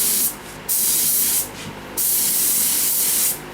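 Spray gun laying a urethane coat onto wheels, a series of loud close hissing bursts of uneven length separated by short pauses.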